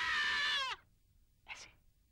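A voice lets out a shrill, squealing scream imitating a pig, followed after a pause by a shorter, fainter squeal.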